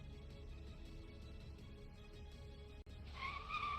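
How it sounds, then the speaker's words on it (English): A car tire squeal sound effect plays over a steady low rumble, rising into a loud, sharp screech in the final second. "We heard a car just squealing."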